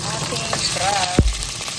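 Crab frying and being stirred in a hot pan, with a steady sizzle running throughout, a few soft utensil scrapes, and one sharp knock of the spoon against the pan near the middle.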